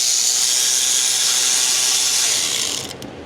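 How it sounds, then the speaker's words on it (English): A 1/4 inch drive electric ratchet with an extension swivel and socket spins out manifold bolts, a steady close whirring buzz running continuously for about three seconds before cutting off at the end. "So we'll use a 1/4 inch drive electric ratchet with an extension swivel, socket."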